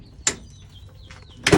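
Old 1975 GMC Gentleman Jim Special Edition truck door in a junkyard, making two short sharp bursts with thin squeaky creaks between them, fairly close.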